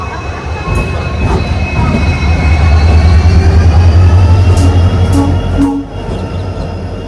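A Hubli–Sindhanur passenger train hauled by a WDP4 diesel locomotive rumbles past close by, a loud steady roar of engine and wheels with a brief horn-like tone near the end.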